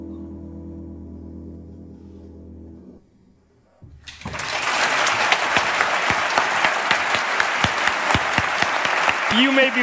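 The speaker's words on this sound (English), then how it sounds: "You may be wondering why I'm clapping." Loud applause starts abruptly after a few seconds of low tonal sound and a brief quiet gap, then continues as a dense, steady clatter to the end, with many sharp claps.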